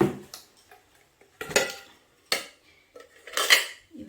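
Metal cooking pots and utensils, including a small kadai and a mini cooking set, clink and clatter in a few separate bursts with short quiet gaps as they are handled.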